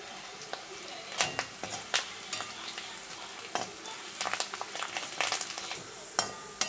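Garlic, green chili and curry leaves fry in hot oil while a spoon repeatedly scrapes and knocks against the pan, sharp stirring clanks punctuating a soft steady sizzle.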